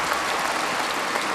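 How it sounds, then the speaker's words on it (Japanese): An arena crowd at a gymnastics competition applauds Kohei Uchimura after his high bar routine, a continuous even roar of clapping from many people, loud and steady, with no voices. "場内すべての人の拍手を今その一心に受けています。"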